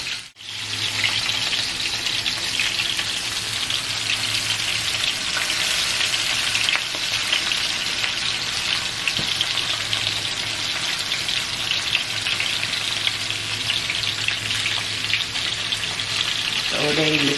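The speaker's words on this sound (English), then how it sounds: "So they're in the frying pan browning." Turkey necks browning in a frying pan over moderate heat give a steady, close, continuous sizzle and hiss that runs evenly from start to finish, with no talking.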